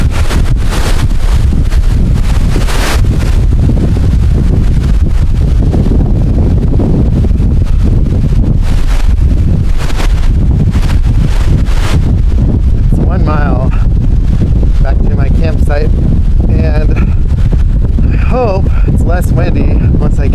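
Strong wind at a Lake Michigan beach at Holland State Park, Michigan, buffets the microphone with a loud, constant roar and gusts, and a voice talks under it toward the end.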